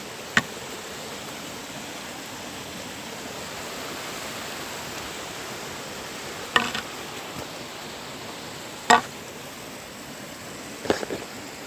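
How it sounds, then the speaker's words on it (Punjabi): Mountain water rushing near snow at around 15,210 ft, a steady, even hiss throughout, broken by a few brief, sharp knocks. "ਦੇਖ ਹੀ ਸਕਦੇ ਪਾਣੀ ਵਗ ਰਿਹਾ ਤੁਸੀਂ"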